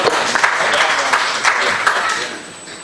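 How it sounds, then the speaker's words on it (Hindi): Audience at a mushaira poetry gathering breaks into sustained, dense applause close by, holding steady for a few seconds before starting to fade toward the end. "लोग ज़ोरदार तालियों में इस्तकबाल करें मोहतरम मोइन शादाब साहब"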